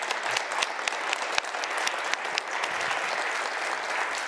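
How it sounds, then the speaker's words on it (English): Sustained applause from an audience, steady clapping filling the room with a few sharper claps standing out, no voices. "Let's give them a warm round of applause"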